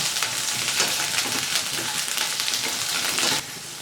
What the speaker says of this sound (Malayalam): വെണ്ടക്കയും വഴുതനങ്ങയൊക്കെ ഒന്ന് സോഫ്റ്റായിട്ട് വരുന്നവർ ഒരു മീഡിയം ഫ്ലെയിമിൽ വെച്ച് നന്നായിട്ട് വഴറ്റി കൊടുക്കാം